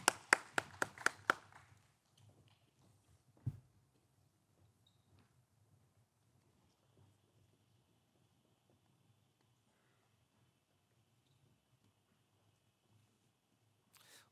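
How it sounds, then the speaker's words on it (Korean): A church congregation at an early-morning prayer service claps in a brief, quick burst of about half a dozen sharp claps at the start, then the room falls almost silent apart from a single faint knock. "하나님께 최고의 영광의 박수를 올려드립니다."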